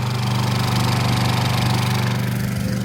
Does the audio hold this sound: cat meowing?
no